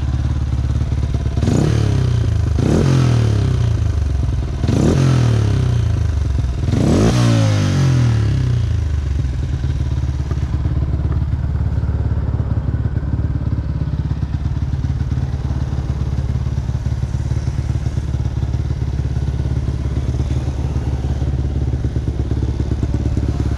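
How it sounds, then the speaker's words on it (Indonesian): A Yamaha Y15ZR motorcycle fitted with a CJ Ipoh exhaust revs four times in quick succession, each sharp loud rise and fall close by, then settles into a steady low idle rumble. "kita dengar dulu dia punya bunyi exhaust eh. Exhaust CJ Ipoh."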